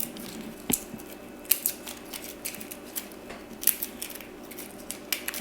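Large raw shrimp being peeled by hand, shells cracking and snapping in sharp, irregular close clicks over a quiet kitchen background.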